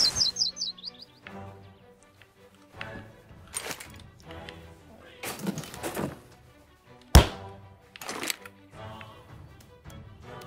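Birds at a nest in South Park: The Stick of Truth, with a quick burst of high chirps at the start, followed by scattered thuds and taps from in-game movement.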